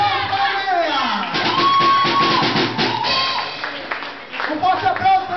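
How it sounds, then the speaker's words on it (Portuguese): An audience applauds and cheers at a live contest show, with steady loud clapping mixed with shouts and whoops throughout. A voice talks over the crowd and music-like tones ring through the noise. "Um forte aplauso para a chinesa que não tem nome."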